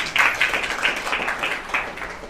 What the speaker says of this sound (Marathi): सर्वांनी टाळ्या वाजवा जोरदार